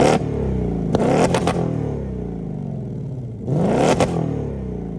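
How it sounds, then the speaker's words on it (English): A 2024 Ford Mustang GT's 5-liter V8 with active exhaust revs hard in two bursts, a loud roaring climb and drop, then a steady burbling idle between them, close and alone with no talk. "that was the sound of the 5-liter V8 sold by Ford for the 2024 Mustang GT"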